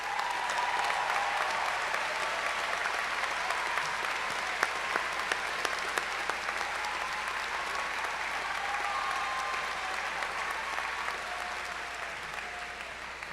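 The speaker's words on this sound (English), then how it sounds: "give them all a round of applause" Sustained applause from a large commencement audience honoring faculty members, an even, dense wash of clapping that holds steady throughout.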